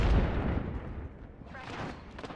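A frag grenade exploding in Apex Legends, a loud close boom at the start fading into rumbling debris, with a voice briefly heard near the end.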